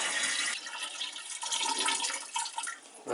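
Water pours steadily from a watering can into a tank, a continuous splashing trickle with slight surges, moderately close and with no talk.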